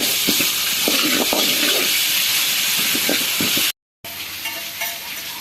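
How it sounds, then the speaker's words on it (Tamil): Ginger garlic paste sautés in hot oil in a pan for green chicken gravy, giving a loud, steady sizzling hiss close up with a few stirring knocks, briefly cut to silence before resuming. "இஞ்சி பூண்டு பேஸ்ட்டு பச்சை வாசனை கொஞ்சம் போகிற அளவுக்கு வதக்கலாம்."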